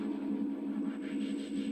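A steady, sustained atmospheric synth pad for organic house, with a low drone and soft shimmering upper tones, even and continuous throughout.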